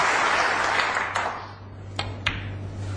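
A snooker crowd applauds a century break at the World Snooker Championship, a broad wash of clapping that swells at once and gradually thins out, with a few sharp knocks near the end.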